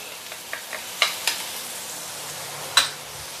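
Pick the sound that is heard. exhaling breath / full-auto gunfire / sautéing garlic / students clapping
sautéing garlic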